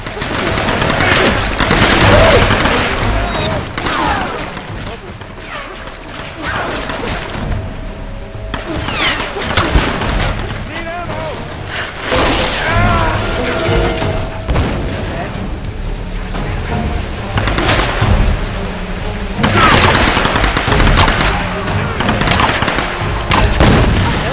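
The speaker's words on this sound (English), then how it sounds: "some dude with a machine gun" Rapid machine gun fire and heavy explosions in a Tomb Raider video game, dense and loud throughout with bursts swelling near the start, middle and end, while someone talks over the combat.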